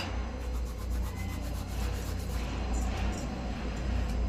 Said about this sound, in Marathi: नंतर हा ओवा मी क्रश करून टाकते